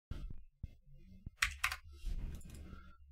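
Computer keyboard keys clacking in a few quick bursts while copying and pasting at a desk, with sharp close clicks separated by short pauses.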